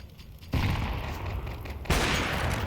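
Gunfire from the game Counter-Strike 2 opens in two sudden loud bursts of rapid shots, the second after a short pause, heard close up with no talk.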